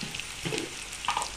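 Sliced onions frying in hot oil, a steady close sizzle with crackling bursts and no voices.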